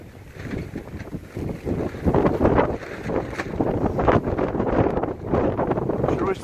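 Gusty wind buffeting the microphone outdoors on a chicken farm during butchering day, rising and falling in rough bursts, with faint voices underneath.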